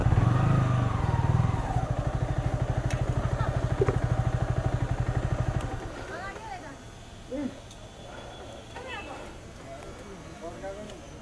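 A Yamaha R15 motorcycle on the road toward Gangtok, its engine pulsing loud and rapid for about six seconds before dropping to a quieter idle, with people talking throughout.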